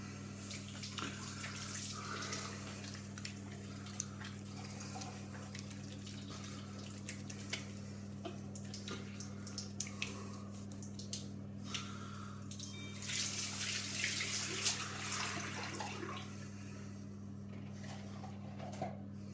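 Tap water runs steadily for washing, a continuous close splash and hiss with a low steady hum underneath, swelling slightly louder near the end.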